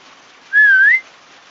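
A person gives a single short, clear whistle with a gentle rising and falling pitch to call cats, alone against a quiet background.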